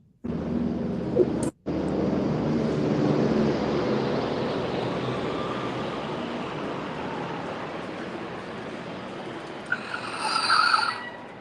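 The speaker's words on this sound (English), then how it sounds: "a helicopter just went over our farm, and that's the noise it made vibrating in the barn" A helicopter passes over a farm, its rotor rumble vibrating through a barn as a steady, loud low drone that persists throughout, with a brief dropout early and a higher-pitched rattle near the end.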